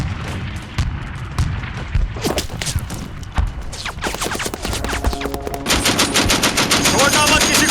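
Rapid bursts of gunfire crackle throughout, with machine-gun rattles and heavier booms, loud and continuous.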